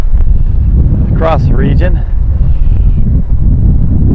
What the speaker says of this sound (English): those big heavy gusts of wind push that dirt across the road